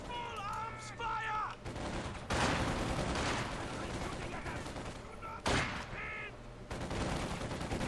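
Semi-automatic rifles fire during a competitive video game battle, with close, sharp shots and crackling volleys in bursts, mixed with tonal game effects and background noise.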